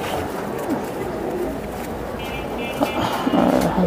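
Large pigeons coo in a loft, a soft steady murmur of birds with a busy background and brief louder calls near the end.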